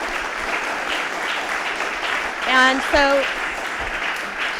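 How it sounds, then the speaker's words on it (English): An audience at a food-startup accelerator cohort celebration claps for the founders, a steady wash of applause with a voice speaking briefly over it partway through. "So I'd like to give them a round of applause if you could."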